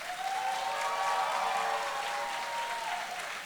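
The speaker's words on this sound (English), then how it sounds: "Please help me in giving a round of applause and a huge celebration for our first honoree, Sydney Jordan Mcleod." Applause from a gala audience for an honoree at a Havana Nights charity event, a dense, steady wash of clapping and crowd noise filling the room for a few seconds without pause.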